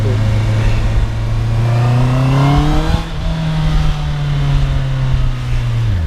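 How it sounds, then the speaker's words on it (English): A 2024 Honda CBR650R motorcycle with its stock exhaust revs up, climbing in pitch, then holds a steady growling drone before easing off, close by and continuous. "I do like the way the stock exhaust sounds. It just sounds like a jet engine."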